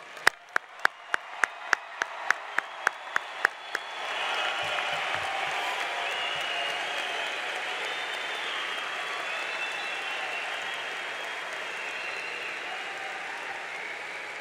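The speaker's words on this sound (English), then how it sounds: "how about one more round of applause for this class?" Applause for a graduating class at a high school commencement, opening with a few loud, evenly spaced handclaps that swell into a broad, sustained wave of crowd clapping lasting well over ten seconds.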